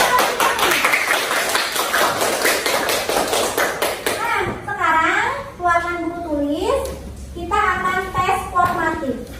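A classroom of children claps their hands in a burst of rapid, overlapping claps, followed by an adult voice and children talking.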